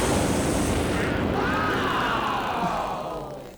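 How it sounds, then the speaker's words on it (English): A big roaring explosion effect in a radio comedy sketch opens full-blast with a broad rumble, then slowly thins and fades over a few seconds, with no one talking. "The deafening explosion was so strong, it literally rocked the restaurant"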